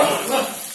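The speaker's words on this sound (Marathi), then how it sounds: "छानसा हलवून घेऊया." Food being stirred in a hot pan, a brief, close, continuous hiss and scrape with no voice.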